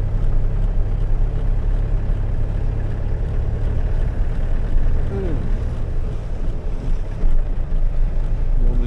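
An icy south wind roars steadily and loudly across the microphone outdoors during a morning safari drive, a constant buffeting rumble that dominates the whole stretch.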